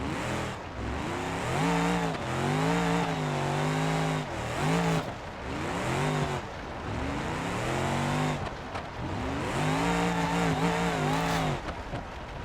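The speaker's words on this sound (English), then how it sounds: "I made this thing into the completely perfect thrash car, but also drag car that it once was." A modified thrash and drag car engine in BeamNG.drive revs hard and repeatedly, loud and close, with climbing and falling gear-like pitch sweeps separated by brief dips.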